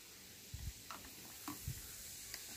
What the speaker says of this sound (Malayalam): ഇത് നല്ലപോലെ അടിയിൽ നിന്ന് അങ്ങ് ഇളക്കി കൊടുക്കാം.